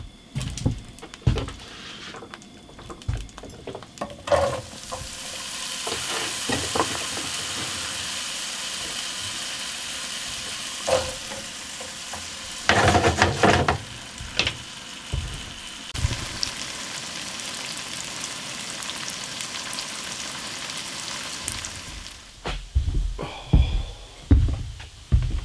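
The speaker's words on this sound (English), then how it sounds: "All right, I'm gonna cook breakfast." Breakfast frying in a pan in a home kitchen, a steady hiss and sizzle running under intermittent clatter, knocks and handling noises, with louder bursts of crackle partway through and near the end.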